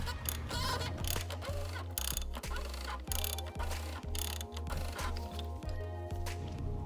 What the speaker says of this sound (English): now we're going to go ahead and move our socket wrench over the other direction. This will go ahead and tighten it.